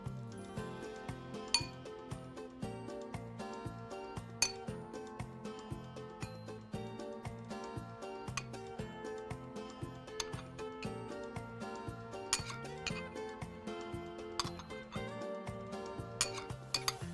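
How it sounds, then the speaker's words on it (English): Spoon and utensils clink repeatedly against dishes while orange segments are placed onto cookies, light ticking taps over a faint musical background, close and quiet. "Now let's spoon on our orange supremes."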